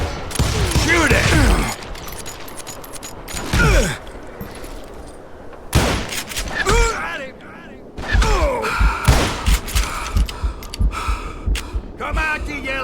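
Gunfire in the Western shooter Call of Juarez Gunslinger, with akimbo pistols: loud shot bursts and impacts come in several clusters across the clip, mixed with game noise and excited talk over the top.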